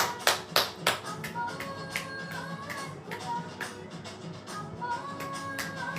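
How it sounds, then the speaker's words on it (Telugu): A quick burst of three or four crisp hand claps opens at home, followed by lighter, scattered taps over continuous background music. "క్లాప్స్"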